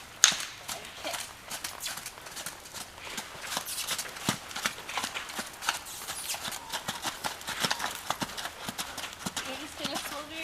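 A horse walking under a rider, its hooves giving a steady clip-clop rhythm of light hard knocks at close range, mixed with shuffling and creaking as someone speaks over it.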